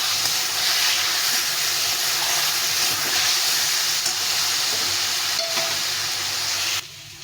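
Pumpkin frying in a pan with ground spice paste, a steady close hiss and sizzle running without a break before cutting off abruptly near the end.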